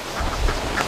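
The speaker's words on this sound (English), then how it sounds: "I'm just watching the duckies here on the swamp trail." Ducks quacking along a swamp trail, a short burst of calls set against steady wind noise, fairly faint and not close to the microphone.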